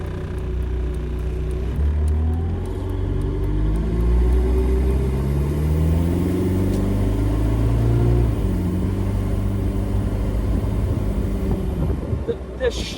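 Diesel-powered Jeep TJ Wrangler driving, a steady loud low engine rumble inside the cab with smooth rises in pitch as it shifts through gears.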